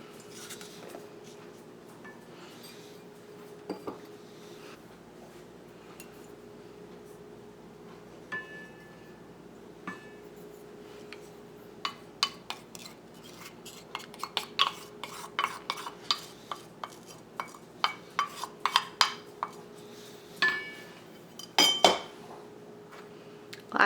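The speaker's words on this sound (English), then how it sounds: "Now I'm just going to stir this until it resembles dough." A dough of cinnamon, cloves and applesauce stirred in a bowl for cinnamon ornaments, quiet at first, then a run of sharp spoon-against-bowl knocks and scrapes building in the second half, close and alone.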